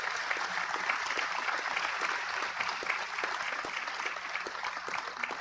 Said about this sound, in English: we should give her a huge round of applause